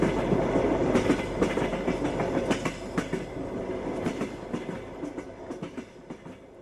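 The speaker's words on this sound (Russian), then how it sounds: "Я опять в вагоне, еду в Харбин на несколько дней." A train carriage rolls steadily along the rails, with a continuous low rumble and irregular clickety-clack wheel beats that fade slightly toward the end, heard from inside with no voices.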